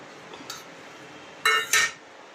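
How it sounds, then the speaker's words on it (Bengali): A pan lid is lifted off steamed hilsa in yogurt (doi ilish bhapa), giving two close metallic clinks in quick succession after a quiet moment. "এবার আমি ঢাকনাটা খুলে দেখাচ্ছি কেমন হয়েছে।"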